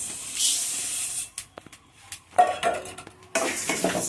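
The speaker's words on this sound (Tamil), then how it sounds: "இப்போ நம்ம மல்லியை போடுறோம்" Coriander seeds added to mustard seeds roasting in a hot pan bring a clatter and rattle, followed by bursts of sizzling and hissing close by, with no voices.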